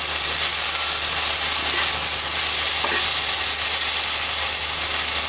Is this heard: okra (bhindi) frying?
yes